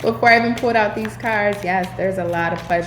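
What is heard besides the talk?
No everyday noises stand out.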